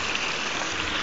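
River water flows along the COC River in a brief, steady broadband rush, a soft continuous wash of moving water with no voices.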